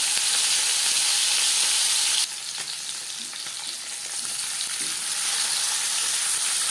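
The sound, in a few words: marinated tilapia fish frying in hot refined oil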